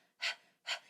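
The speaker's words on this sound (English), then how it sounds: "if you kind of like do some panting" Two sharp, forceful panting exhalations during a beginner voice lesson, air pushed out from the core in a quick, even rhythm, close and clear with no speech.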